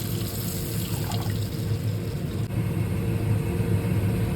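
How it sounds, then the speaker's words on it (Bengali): Water poured into a pan for a fish curry, a steady rushing pour with a low rumbling flow throughout, close and fairly loud, no speech. "এইবার দিয়ে দেবো হচ্ছে পরিমাণ মতো জল"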